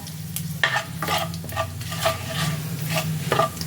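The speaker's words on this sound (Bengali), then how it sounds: "এবার ওই তেলে ফোড়নের জন্য দিয়ে দিচ্ছি গোটা জিরে তেজপাতা" Whole cumin seeds and bay leaves sizzle in hot oil while being stirred, a steady close crackle broken by repeated scraping strokes of a spoon in the pan.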